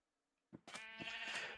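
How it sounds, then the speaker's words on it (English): Sheep bleat in Minecraft, a short soft call followed by a louder, sustained wavering bleat, close and clear with no talk. "we gotta figure out what to do with all these sheep"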